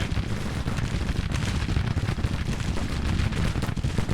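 American Civil War infantry volleys rattle in a Grand Tactician battle, a dense and continuous roar of overlapping musket fire with distant booms. The sound is loud and unbroken throughout, with no talking.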